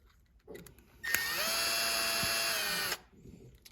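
A power drill whirs on screws holding the motor of a Traxxas TRX4M RC truck, one sustained close burst of about two seconds between faint handling noises.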